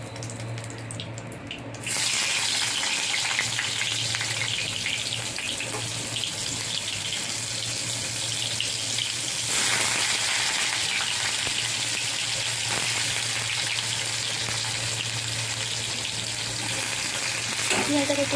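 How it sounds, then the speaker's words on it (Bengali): Onion hitting hot oil flavored with fish oil, a sudden loud burst of frying that settles into a steady, dense, close sizzle throughout, with faint background talk. "পেঁয়াজটাকে একটু নেড়ে চেড়ে ভেজে নেবো"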